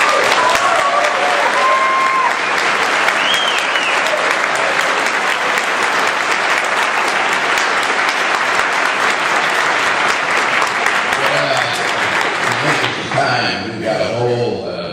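Audience applause rises loud and sustained at a Republican gubernatorial debate on Mackinac Island, a dense crowd clapping for over ten seconds before fading as a voice starts speaking.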